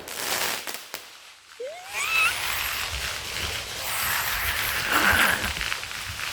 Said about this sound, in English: Another firework.